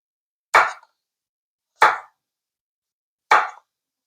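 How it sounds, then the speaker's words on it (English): Knife slicing organic yellow squash into thick rounds on a cutting board, three crisp separate chops about a second and a half apart, close and clear with silence between. "We slice them pretty thick."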